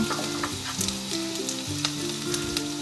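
Chicken and spices are stirred as they fry in oil for Bengali chicken kosha, producing a loud, dense sizzle with repeated spatula scrapes and a faint steady hum underneath.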